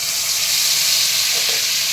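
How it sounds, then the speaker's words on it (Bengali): Spice paste for a vegetarian chhana dalna tipped into hot tempering oil, a loud, dense, continuous sizzle close by, steady from start to finish. "এবার আমি মশলাটা ঢেলে দিচ্ছি"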